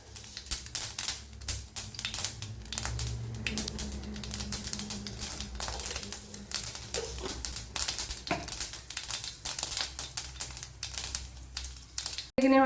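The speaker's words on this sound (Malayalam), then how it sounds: "ഇവിടെ ഓയിൽ ചൂടായിട്ടുണ്ട്. അതിലേക്ക് കടുക് ഇട്ട് കൊടുത്തിട്ടുണ്ട്." Mustard seeds and fenugreek splutter in hot oil, giving a fast, irregular crackle of tiny pops that runs continuously at a soft-to-moderate level close by, with no speech.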